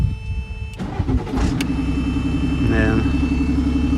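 Cummins diesel engine in a British Army Jackal 2 cranking and catching, then settling into a steady rumbling idle with a faint whistle, close by, with someone talking briefly over the start.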